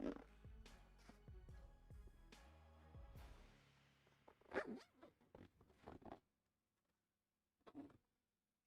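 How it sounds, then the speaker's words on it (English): A zipper rasps repeatedly as a duffel bag is zipped closed, giving several quick close scratchy pulls. A sharp bump follows, and then a quiet pause. "and then zip this back up."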